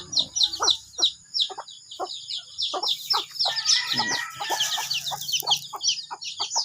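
Hens and chicks on a small backyard chicken farm, clucking and peeping in quick repeated bursts, fairly close, with a brief rooster-like call partway through and steady low background noise.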